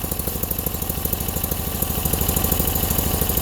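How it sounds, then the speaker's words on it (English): Bolens Eliminator lawn tractor with a hydrostatic drive, its twin-cylinder engine running rough and puffing black smoke, heard up close as a loud, uneven, rapid thumping idle that surges slightly, with no talking. "It is running on both cylinders, but she's a little unhappy."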